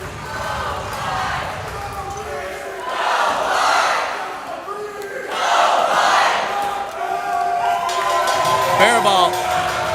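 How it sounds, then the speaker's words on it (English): A crowd at a Michigan dodgeball match roars and cheers in rising waves, swelling loudly twice and then erupting again near the end, with a commentator talking over parts of it. "And listen to the crowd."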